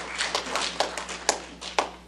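A church congregation at a Sunday service gives a short burst of hand clapping, a handful of distinct sharp claps spaced unevenly and fading out, fairly close and without voices.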